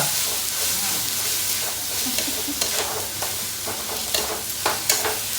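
Crab curry masala fries and sizzles in a home-kitchen pan, a steady close hiss with scattered scraping stirs and small pops throughout, with no talk.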